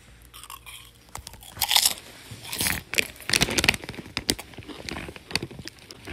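Crunchy chewing and biting of Rap Snacks Cardi B red hot cheddar potato chips, close and loud, in irregular bursts with no talking.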